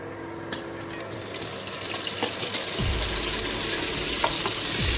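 Soft stirring and scraping with a hiss of food sautéing in a glass pan before tomatoes go in, a faint background hum underneath and the sizzle growing louder midway.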